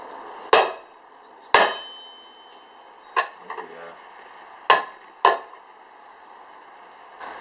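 Hammer blows drive a bearing race into a Dana 20 transfer case through a spindle nut adapter: five sharp metallic strikes at uneven intervals, each ringing briefly, with a soft clink between them in a quiet shop.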